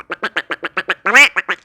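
A human voice mimics a duck, giving a rapid series of about ten nasal quacks in steady rhythm, close and loud, with one longer drawn-out quack near the end.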